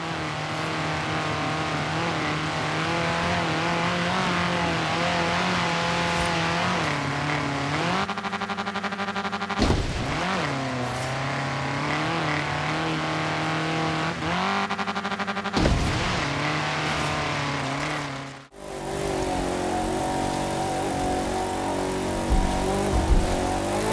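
Racing car engines from the Forza Horizon 3 and The Crew 2 video games, sustained loud high revving with several gear-change dips, then an abrupt cut to a different, rougher engine tone.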